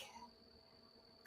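Crickets chirping outdoors at night in the bush, a steady thin high-pitched trill held throughout at low volume, with a sudden louder burst of noise at the very end.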